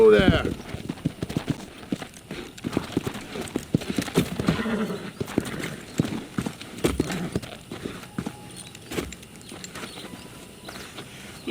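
Horses' hooves clip-clopping in the video game Red Dead Redemption: a quick, uneven patter of hoofbeats that slows and thins out, with a whinny near the start and voices talking over the hooves.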